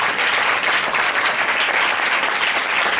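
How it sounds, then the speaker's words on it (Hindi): A worship congregation claps loudly and steadily to thank God, a dense, even wall of applause that holds for the full length with no voices breaking through. "जोरदार ताली बजाकर परमेश्वर को धन्यवाद करें"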